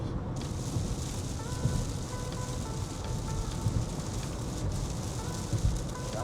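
Heavy rain pours on a car as it drives at night, a dense and steady hiss of drops on the roof and windshield mixed with the low rumble of the road. It stays constant and fairly near, with no talking.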